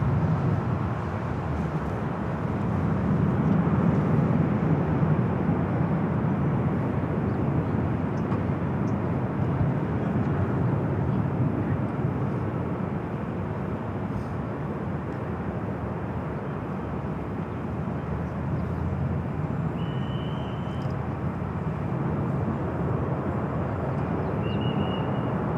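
A SkyWest Embraer E-Jet taking off from runway 24 left at Los Angeles International Airport, a steady broad jet roar that holds loud and even throughout with no voices.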